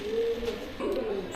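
Rampuri Punjabi red pigeon cooing softly, a low rolling coo repeated twice in quick succession, close and fairly quiet against faint background noise.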